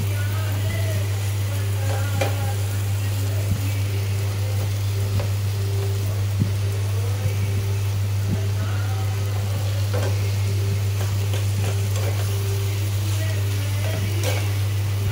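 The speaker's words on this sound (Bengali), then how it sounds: "এটাকে ফ্রাই করছি।" Chicken mince frying in a pan with mashed-down tomatoes gives a steady low sizzle, with faint scrapes and ticks of stirring scattered through it.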